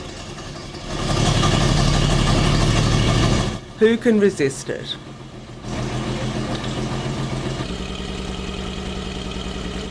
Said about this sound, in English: The petrol engine starts at the push of a button and then this sound.